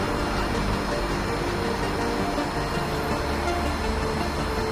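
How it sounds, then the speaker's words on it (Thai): A Pink Line monorail electric train runs past at an interchange, producing a steady, loud, broadband rumble and whine that stays constant throughout, with no talking over it. "รถไฟฟ้าโมเดลสายสีชมพู"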